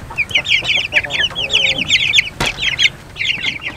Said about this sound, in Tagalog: Dito nga pala yung mga bagong sisiw natin, nga pala yung bagong pinasisiw ito na incubate namin na nakaraan.